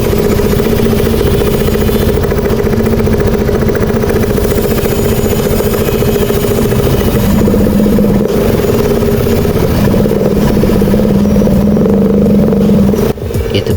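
A KYMCO Like 150i scooter runs after a new spark plug and a cleaned throttle body. The engine idles loud and close with a steady, slightly uneven drone and a faint clatter, with no talk.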